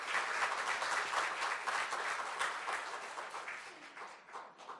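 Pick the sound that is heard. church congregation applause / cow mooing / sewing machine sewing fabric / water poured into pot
church congregation applause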